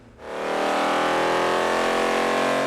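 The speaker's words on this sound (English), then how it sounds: "and another dyno run for numbers" A Nissan 240 with an LS engine revs up on a dyno, quickly rising from quiet into a loud, sustained high-revving roar with a rising whine.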